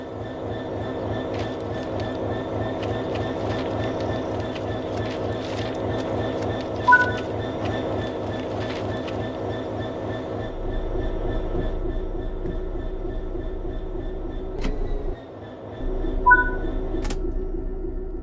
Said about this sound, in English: let's head into the locomotive and couple to the wagons